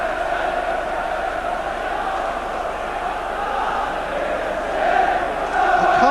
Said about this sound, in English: The crowd are absolutely tremendous, aren't they?